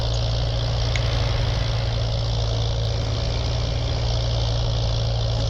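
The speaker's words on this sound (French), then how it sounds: "Ah, ils font du bruit, notre tracteur" A tractor engine idles steadily and loudly nearby, a constant low rumble with no pauses throughout.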